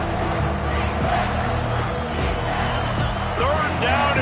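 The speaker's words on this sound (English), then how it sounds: "this crowd will blow out a vocal cord to help this defense" Stadium crowd roaring on a third down at an American football game, a dense continuous wall of cheering and yelling that stays loud throughout, with a commentator's voice over it.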